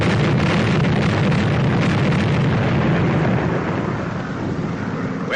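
A big bomb blast from an aerial bombing test gives a loud, sustained rumbling roar that stays dense and heavy throughout, with no voices over it.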